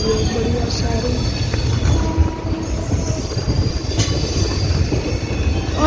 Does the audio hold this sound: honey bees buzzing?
no